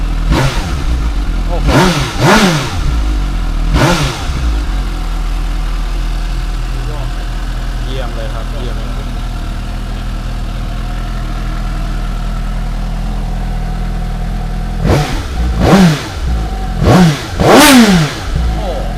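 A Suzuki GSX-S750 motorcycle engine is blipped in sharp, loud revs, first three quick bursts, then a stretch of steady idle, then another cluster of three or four revs near the end, with voices speaking over parts of it.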